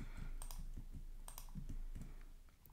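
Faint, quick key presses on a computer keyboard, a short cluster of clicks for entering shortcuts, heard alone in a quiet room.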